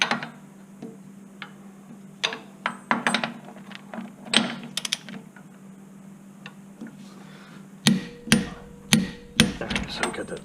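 A torque wrench tightens bolts on the rear hub of a Chevy Spark with a series of sharp metallic clicks and ratcheting ticks. The clicks come close and fairly quiet, in irregular clusters with a brisk run near the end.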